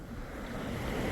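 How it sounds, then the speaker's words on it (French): Strong wind blowing over the sea while fishing off La Turballe, a steady broadband roar with surf-like wash that builds slightly toward the end, close and loud with no voices. "le vent au final il se renforce à mort"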